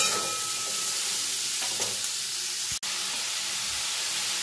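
Potato and cucumber pieces stir-fry in hot oil, a bright continuous sizzle heard close, with faint stirring scrapes and one sharp knock partway through.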